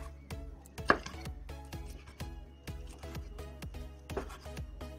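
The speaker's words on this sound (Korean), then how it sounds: "잘 삶아졌으니 먹기 좋게 쓱싹 썰어서 접시에 담아 볼게요" A knife slices repeatedly through soft boiled pork belly onto a board, a steady rhythm of dull thuds, close by with no talking.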